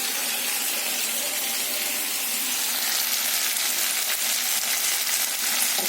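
Ground cumin and coriander sizzle in hot oil in a pan, a continuous loud, close crackling hiss that never lets up from start to finish.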